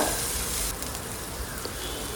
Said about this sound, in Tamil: அதை போட்டுட்டு நல்லா வதக்கி விட்டுக்கோங்க